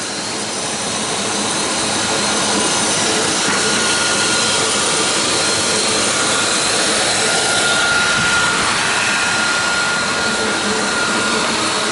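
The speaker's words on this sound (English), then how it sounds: "this is the waxing device" Automatic metal chain zipper waxing and lacquering machine running with a continuous whirring, whooshing hum, steady and close with no pauses or voices.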